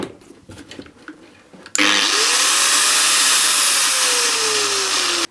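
A Milwaukee AGV 10-125 E / AGV 13-125 XSPDE 125 mm angle grinder with a paddle switch starts up after a short lead-in of handling noise. Its motor ramps smoothly to a loud, steady high whine that holds to the end.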